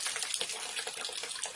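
Water gushes steadily through a Wellsys bottleless water cooler while its filters are flushed, a loud, continuous splashing rush with no talk.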